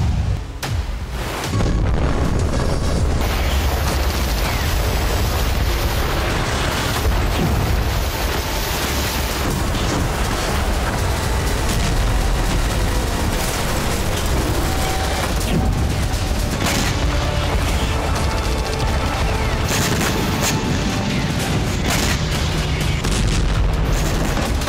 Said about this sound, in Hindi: पैट्रियट से विस्फोट हुआ और लड़ाकू विमान जल गया।